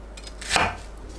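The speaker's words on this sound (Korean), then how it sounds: "양파를 1cm 간격으로 썰어주세요." A knife slices an onion on a cutting board. A single crisp chop lands cleanly against a quiet background.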